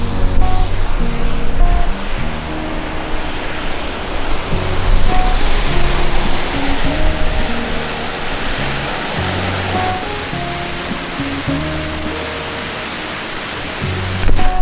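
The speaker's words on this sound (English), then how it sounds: "Right, let's go see the main big waterfall." A waterfall on the Isle of Skye roars in a constant, loud wash of rushing water, steady throughout with no pauses.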